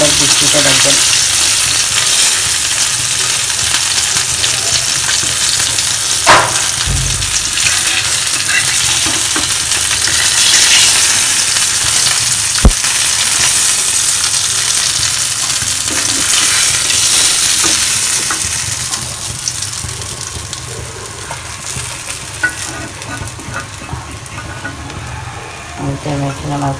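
Whole fish fry in hot oil with a steady, loud broadband sizzle and crackle that runs throughout, a couple of sharp clinks from a utensil, and a faint voice underneath.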